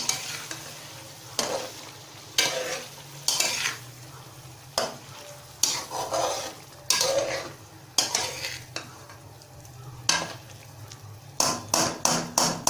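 Green chilli chicken mixture stirred in a pan, a spoon scraping and clanking against metal in irregular bursts over a low simmering sizzle, close with no talk.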